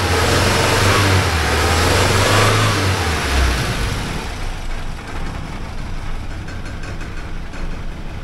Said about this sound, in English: Now the motor will rev anyhow.